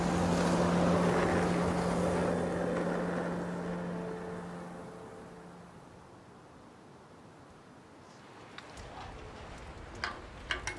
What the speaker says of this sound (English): So this sled is what you call a street luge